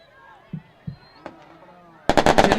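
Fireworks set off by 1ro de Mayo supporters at a football match against Guaraní: a few scattered pops early, then a loud dense burst of rapid cracks and crackling near the end, with crowd noise beneath.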